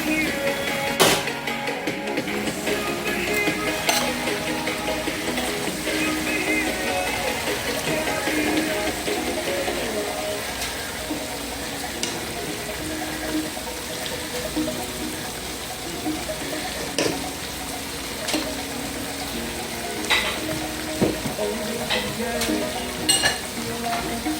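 Carrots tipped into a pot of simmering brown stew chicken, a Filipino and Jamaican fusion dish, with steady sizzling and stirring throughout, occasional clinks and scrapes standing out close up over the constant bubbling.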